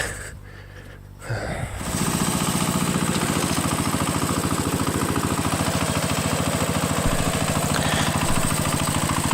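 A motor cultivator fitted with an active rotary tiller starts up in a garden plot, then its engine settles into a loud, steady, close chugging run that keeps going without a break.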